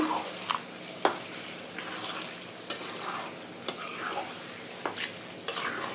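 Goat liver fried and stirred with spices in a pan, steady sizzling broken by periodic sharp spoon clicks and scrapes against the metal, close and moderately quiet, with no speech.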